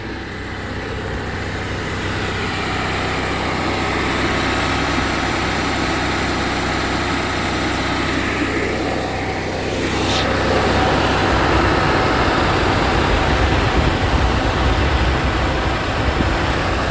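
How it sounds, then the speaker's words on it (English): Old Champion motorhome generator running steadily after an exhaust repair, a constant noisy engine drone that stays loud and unbroken throughout with no talk. "finished product up and running. It's old generator, so it's noisy, but way better than what it was."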